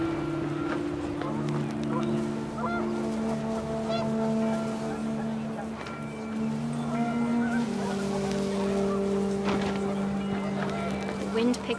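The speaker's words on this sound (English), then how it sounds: "The wind picked up, and panicked geese appeared and quickly went." Panicked geese honk and cry in the video game What Remains of Edith Finch, layered over a steady rush of wind that fills the whole stretch at moderate loudness.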